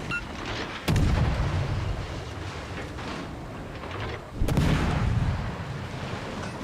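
Two heavy naval gun salvos boom out in World of Warships: Legends, one near the start and another a few seconds later, each a loud broadband blast trailing into rumbling sea ambience.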